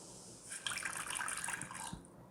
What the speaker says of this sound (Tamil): ஃபஸ்ட்டு ஒரு 1/2 கப் கிட்ட தண்ணி விட்டுருக்கேன்